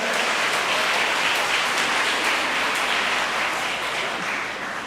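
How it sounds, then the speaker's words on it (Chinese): An audience applauds at a memorial thanksgiving concert, a dense, steady wash of many hands clapping that holds for several seconds and eases slightly toward the end. "咱拍手啦！"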